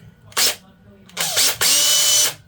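A power drill with a 2.5 mm bit runs in three short bursts, one brief whir and then two longer high-pitched spins, close and loud, with pauses between them.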